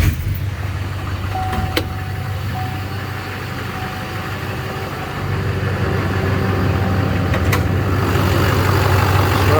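Chevrolet Silverado 3500 with a Duramax diesel engine and over 200,000 miles, starting up and settling into a steady, close idle rumble that grows slightly louder partway through, with brief clicks and a faint chime early on.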